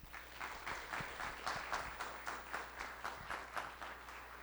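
Audience at a lecture on reverse logistics in São Paulo claps in welcome, a moderately loud, rhythmic patter of many hands with regular pulses running through the whole stretch, no talking over it.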